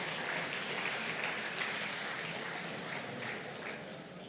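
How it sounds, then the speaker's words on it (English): An audience at Nigeria's 26th Democracy Anniversary celebration applauds a team, with dense, steady clapping that fills the room and fades slightly toward the end. "I think they need a round of applause."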